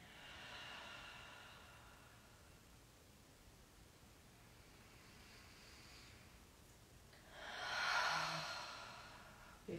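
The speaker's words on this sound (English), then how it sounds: "Maybe taking the deepest breath you've taken today." A long, slow deep breath during a restorative yoga flow class, soft airy breathing in at the start, a quiet stretch, then a fuller, louder exhale near the end, close and alone.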